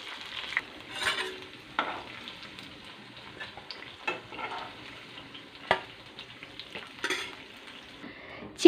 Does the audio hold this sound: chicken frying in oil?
yes